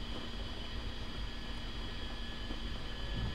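A steady, low jet engine hum and rumble from an A-10C taxiing on the ground in the DCS World flight simulator, constant and fairly faint with no voices.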